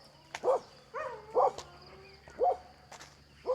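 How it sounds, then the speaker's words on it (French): Dogs bark several times, a few sharp woofs spaced apart at moderate distance along a path near a Penang beach, over a faint steady hum and insect buzz. "Ah bah voilà les chiens"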